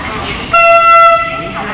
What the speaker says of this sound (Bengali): এই যে ট্রেনটা ঢুকছে।